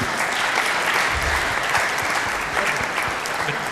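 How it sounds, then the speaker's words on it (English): Audience members at a panel discussion on cultural shifts in the Middle East applaud, producing a dense, steady round of clapping that holds evenly from start to finish without voices. "take a moment and applaud everyone in the community that's engaged in these projects"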